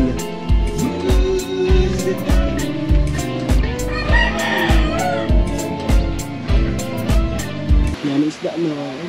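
Chickens cluck and a rooster crows at a poultry farm, loud and near, with a rhythmic background beat and people talking over them.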